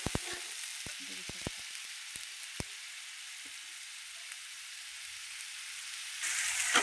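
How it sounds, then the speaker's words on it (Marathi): Food frying in hot oil in a kadai, a soft, quiet sizzle running throughout, broken by several sharp clicks and scrapes in the first few seconds and a brief louder surge of hiss near the end; no talking. "मस्त असं चांगलं तेलात फ्राय करायचं."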